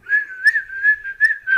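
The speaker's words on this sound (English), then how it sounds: "And then he just starts whistling." A person whistles a short wavering tune, clear and close, with no other sounds.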